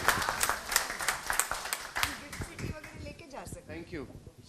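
Applause from an audience at a talk or panel event, a brief burst of clapping of moderate loudness that fades into scattered claps and voices.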